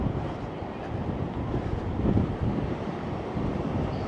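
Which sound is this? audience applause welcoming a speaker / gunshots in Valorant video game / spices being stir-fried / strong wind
strong wind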